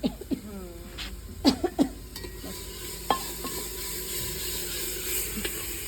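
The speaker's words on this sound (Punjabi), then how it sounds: "ਮਸਾਲਾ ਭੁੰਨ ਰਹੇ ਹਾਂ" Masala roasting in a pan for aloo chole in a village kitchen, with scraping stirs and soft sizzling under a steady background hum, a few sharp clinks of the spoon against the pan, and faint voices nearby.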